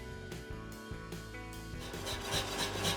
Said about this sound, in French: Puis je transvase le tout dans la casserole.